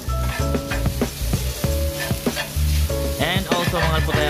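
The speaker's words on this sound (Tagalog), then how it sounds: "pwede nating haluin lahat, pati yung noodles, para magsama-sama sila" Pancit canton noodles with egg stir-fried in a hot pan: steady sizzling and frying under repeated scraping and clattering strokes of a spatula, close and fairly loud, with no talking.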